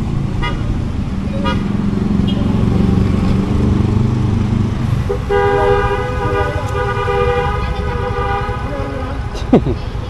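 Vehicle horns honk in long sustained blasts over a rumbling engine, starting low then switching to a higher, brighter tone, close and loud.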